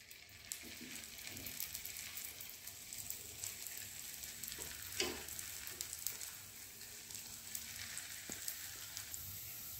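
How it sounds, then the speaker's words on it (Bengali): Potato fingers fry in hot oil with a faint, continuous crackling sizzle, scattered with small pops and occasional clinks of a utensil. "বাকিগুলো ভাজতে বসিয়ে দিয়েছি।"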